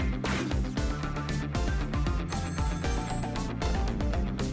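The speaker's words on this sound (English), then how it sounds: "Oh no, the phone!" A telephone rings in the Ghost Trick: Phantom Detective video game, a steady electronic ring running through the whole stretch over dense, busy game music.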